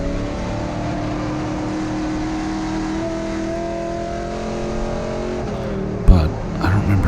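Onboard engine of a GLTC race car at Mid-Ohio holds a steady loud drone at sustained speed, then a sharp thump and gear change near the end as revs shift.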